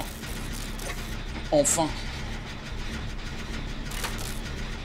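A generator being repaired in the video game Dead by Daylight gives a short burst of mechanical ratcheting and clanking, with a steady low hum underneath. A voice talks briefly over it.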